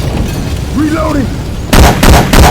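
Three sharp, evenly spaced gunshots from Syphon Filter weapon sounds in Left 4 Dead 2, loud and close after a short spoken game voice line.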